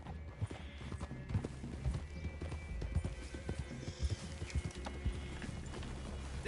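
Horse hooves clip-clopping in the Red Dead Redemption 2 video game, a steady irregular patter of hoofbeats with an occasional whinny, fairly faint under a busy outdoor ambience.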